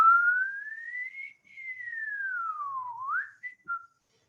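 A single clear whistle gliding slowly up, then down, ending with a quick rising flick and two short chirps, heard alone.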